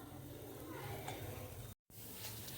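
Rice flour dry-roasting in a pan for kattu yanam rice kozhukattai, a soft continuous sizzling hiss with faint stirring scrapes, close and steady, broken by one brief silent gap.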